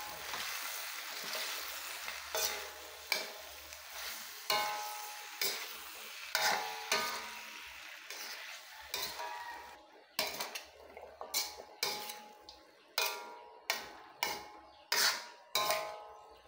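Pinakbet with pork and bagoong is stirred in a pan after oyster sauce goes in, a spoon scraping and clinking against the metal over a soft sizzle, the strokes turning into sharp, regular clanks toward the end.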